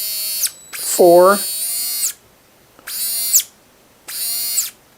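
A JEDIA cordless rotary tool from a five-speed kit whines in three bursts, with a high, steady motor tone at one speed. It slows and stops between runs, and someone talks during the pauses.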